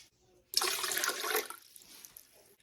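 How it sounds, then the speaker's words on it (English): Warm water, two cups of it, pours into a bowl for homemade bread dough, a sudden loud gushing splash that runs about a second before tapering off into quieter trickles. "the first thing we're going to do is add 2 cups of warm water"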